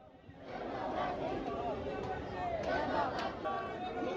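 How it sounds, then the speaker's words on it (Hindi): Large crowd packed into the Mehdipur Balaji temple complex, a steady murmur of many voices with occasional shouts, close by, and someone speaking over it. "आज वाकई में बहुत ज़्यादा भीड़ है यहाँ पर"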